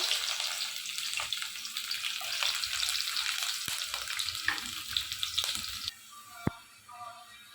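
Onion sizzling in hot oil with bay leaf, cardamom and cinnamon as beef curry gets started, a steady close frying hiss with stirring scrapes and clinks, settling quieter near the end.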